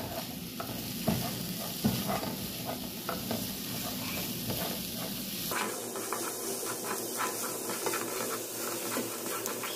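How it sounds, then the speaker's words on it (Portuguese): Two cloves of garlic sizzle in a little oil in a pan, a steady close frying hiss broken by stirring scrapes, with the sizzle settling into a smoother, quieter crackle partway through. "Um pouquinho de óleo aqui pra dar uma fritadinha"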